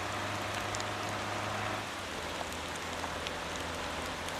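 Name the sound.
rain in the video game Motor Town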